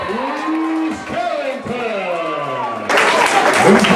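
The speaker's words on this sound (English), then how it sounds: "a huge round of applause for both competitors" After an announcer's amplified voice, a boxing crowd at a USA Boxing bout erupts in loud, dense applause for both competitors, filling the final second.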